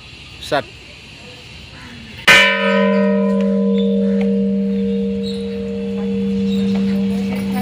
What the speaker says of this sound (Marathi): आणि ही घंटा आहे मोठी